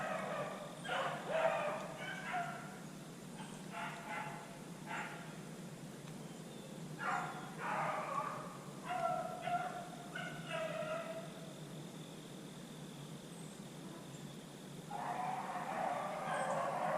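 A pack of hunting dogs bays during a rabbit hunt, loosing repeated bursts of barking from a moderate distance, with quiet pauses between the clusters of cries.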